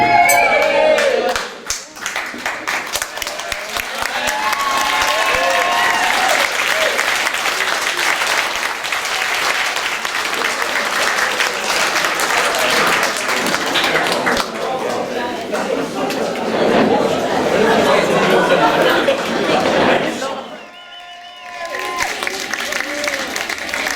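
Wedding guests at a reception applaud loudly and cheer after a toast to the bride and groom, sustained clapping and shouts filling the room with voices throughout, then a brief lull before the noise resumes.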